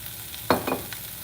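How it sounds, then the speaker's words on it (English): Coconut aminos poured into a hot stir fry, giving a brief sharp hiss followed by a softer second sizzle and a faint tail, over a low steady background. "And for this stir fry, I will be adding my amino acid"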